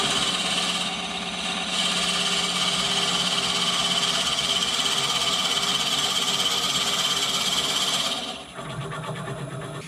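A Forstner bit bores a 20 mm hole in wood for a bottle opener, giving a loud, steady motor whine with a harsh grinding edge that runs nearly nonstop and dips briefly near the end.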